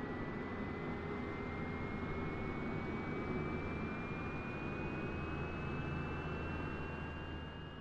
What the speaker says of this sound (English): Externally, we can see the left engine starting